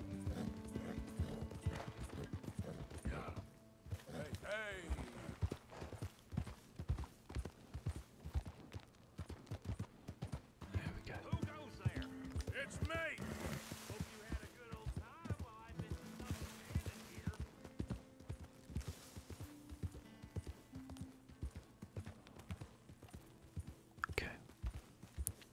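A horse gallops in Red Dead Redemption 2, its clip-clopping hooves drumming in a steady rhythm throughout, with occasional whinnies and snorts, and a soft voice murmurs intermittently over the hoofbeats.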